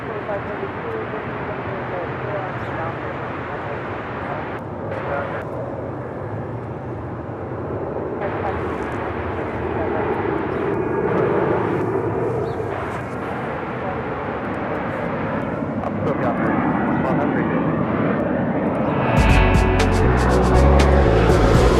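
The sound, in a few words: American Airlines Boeing 777-200ER taxiing at LAX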